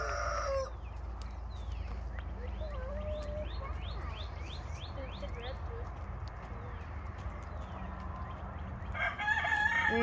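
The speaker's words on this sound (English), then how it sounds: "We got another chicken here." Garden chickens cluck and crow in a quick run of calls, fairly close over a steady outdoor background, with a louder burst of noise near the end and a voice partly present.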